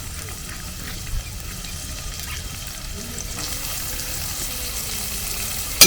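Chopped onions frying in a pan with ginger and garlic, a soft steady sizzle running throughout with a few faint clinks and stirring scrapes, and a brief louder clatter at the very end.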